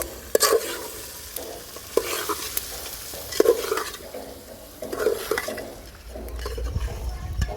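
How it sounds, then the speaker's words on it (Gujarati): Cluster beans, green pigeon peas, peas and carrots fry in ghee while a spoon stirs and scrapes the pan in repeated strokes, with a soft sizzle underneath. "હવે આ બધું શાકભાજી આપણે મિક્સ કરી લઈશું"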